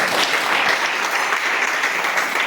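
A church congregation claps and cheers in applause for the word of God during a bilingual Sunday sermon, a dense, even roar of many hands sustained throughout.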